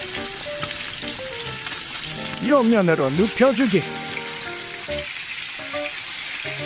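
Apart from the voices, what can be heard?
pork belly frying in pan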